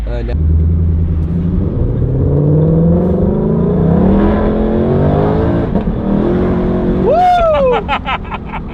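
A car in manual mode revs hard and accelerates with its wheels spinning, engine pitch climbing steadily up close, ending in a brief squealing rise; someone talks excitedly over it.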